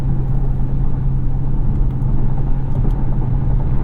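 A 2022 Dodge Charger Hellcat Jailbreak cruises on the highway at about 70 mph, giving a loud, steady low engine and road drone that holds evenly throughout with no voices.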